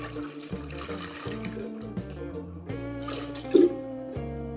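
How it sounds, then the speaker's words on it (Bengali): Water poured into a pressure cooker holding sweet potatoes, a steady trickling flow that stays fairly quiet, with a brief louder splash near the end. "এবার এখানে কিছুটা জল নিয়ে নেব"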